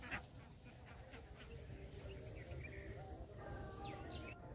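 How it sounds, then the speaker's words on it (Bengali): A flock of farm ducks feeding at dusk keeps up a steady, dense chatter of quacks and honks, fairly close and continuous, with no talking. "হাঁসেদের খাওয়া শেষ হলে তারা বাসায় ফিরবে"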